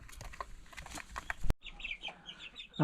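Young chickens about a month and a half old on a Thai farm cluck and chirp close by, with rustling and a burst of wing flapping, then a run of higher, excited peeping calls.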